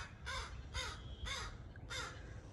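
Four loud, harsh caws from crows in a snowy yard outdoors, evenly spaced about half a second apart over steady low background rumble.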